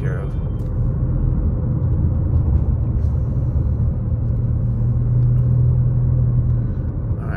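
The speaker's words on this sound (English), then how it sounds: "so we're still driving through Fawnskin right now" A car drives through the Fawnskin neighborhoods on a calm winter day, producing a loud, continuous low road rumble and engine drone from inside the vehicle.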